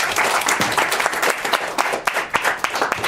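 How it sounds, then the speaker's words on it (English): Audience applause in a conference hall, a full round of many hands clapping with irregular sharp claps on top, fairly loud and close, thinning slightly toward the end. "Let's give a round of applause to all the people here"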